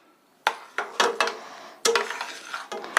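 A spoon stirring dry semolina (rava) in a pan for rava kesari, before the gas is lit: close, irregular metallic knocks and scrapes with short clinks, heard alone.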